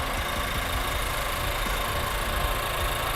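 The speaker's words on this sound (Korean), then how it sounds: "엔진 소리도 일정합니다" A Nissan Juke 1.6 SV engine runs steadily at idle, a continuous low rumble with even mechanical vibration and no voices.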